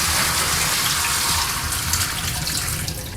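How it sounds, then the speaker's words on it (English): Water is poured out of a PETLIBRO Capsule pet water fountain in a steady, loud, close rushing gush that tapers slightly toward the end, with no talk. "We can pour out the water now."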